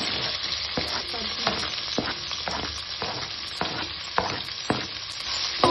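Sliced onions frying in oil in a pan, stirred repeatedly with a spoon, giving a steady close sizzle broken by regular scraping strokes and no talk.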